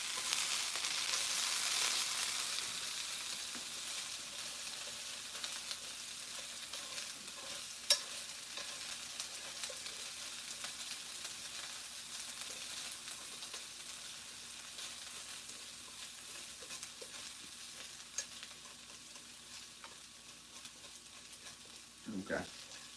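Food fries in a pan with a faint, steady hiss of sizzling grease, broken by a few small clicks and stirring sounds, quiet and continuous throughout.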